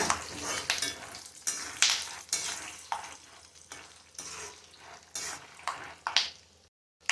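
Crackling, bubbly sizzle of raw peanuts frying in hot oil, with occasional stirring scrapes and clinks of a pan, steady and close.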